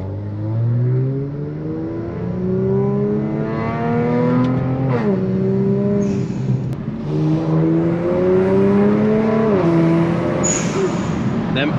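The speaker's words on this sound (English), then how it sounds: "Them HKS blow valves sound good." A tuned Kia Stinger with loud exhaust and HKS blow-off valves revs up through several gears, each climb ending in a sharp valve whoosh. It stays loud and close throughout, with voices faint underneath.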